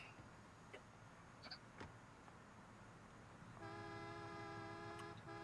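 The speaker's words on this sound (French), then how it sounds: "Oh ouais, le klaxon" A car horn in the video game GTA 4 gives a sustained, buzzy honk near the end, after a stretch of faint clicks and background game noise.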